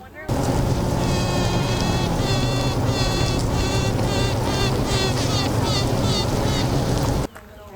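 Dense, steady buzzing of many honeybees close by, a loud continuous hum with wavering higher tones running throughout.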